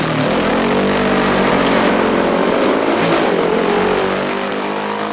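A Cooper Mark 10 500-class race car accelerates hard up the Shelsley Walsh hillclimb, its loud, close engine note climbing steadily in pitch through the gears for several seconds.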